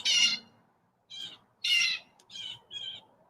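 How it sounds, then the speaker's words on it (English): Birds squawk and chirp in a humid outdoor garden, five sharp, fairly close calls in irregular bursts separated by brief quiet gaps, with no talking. "You can hear the birds having at it."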